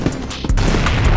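A video game grenade goes off in a short, loud, close boom with a crackling burst, heard alone within about a second.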